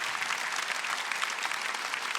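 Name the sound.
church congregation clapping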